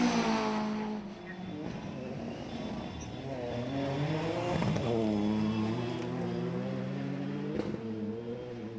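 Rally cars finishing a stage at Oulton Park, engines revving and shifting through gears as they pass nearby, with a rising and falling harmonic drone and a sharp burst midway, no talk.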